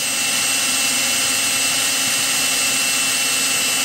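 A steady, high-pitched power drill whirs continuously at close range on a GY6 scooter body panel, loud and unbroken throughout, with no voices.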